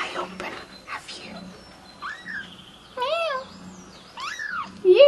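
A ginger kitten at a cats protection shelter gives several thin, rising meows, near and fairly loud, with a person talking softly in between.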